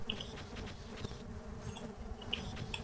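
Angry bees buzzing inside a video game, a steady insect drone at moderate level with a few brief higher chirps over it and no talking.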